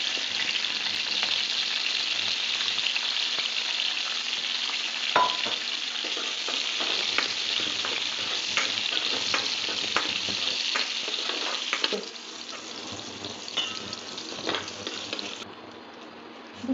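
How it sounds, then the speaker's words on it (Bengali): Fresh shelled peas fry in hot oil with a steady bubbling sizzle and repeated utensil clicks and scrapes, the sizzle easing slightly toward the end. "এই তেলে রান্না চাপানোর আগে ফ্রেশ মটরশুঁটি ছাড়িয়ে রাখা আছে, একটু ভেজে নেব"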